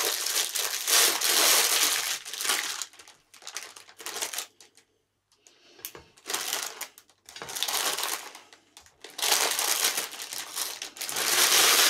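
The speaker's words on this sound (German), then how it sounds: "die Brötchen auspacken" Plastic packaging around bread rolls crinkles and crackles in loud, repeated bursts as it is unwrapped, with short pauses between handling.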